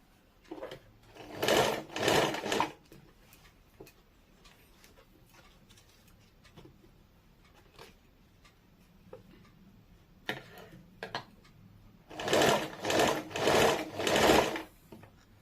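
A sewing machine stitches folded elastic into a palazzo waistband in two close, loud bursts of rapid stitching, with quiet ticking and fabric handling between them.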